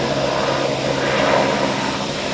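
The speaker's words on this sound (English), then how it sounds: "There goes the helicopter." Helicopter flying over Victoria Peak in Hong Kong, a steady rotor and engine roar holding at a constant level throughout, fairly loud, no talking.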